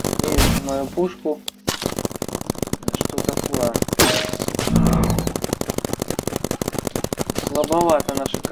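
Rapid automatic gunfire from the video game Big Paintball rattles in dense bursts with short pauses, loud and close, while someone talks over the shooting.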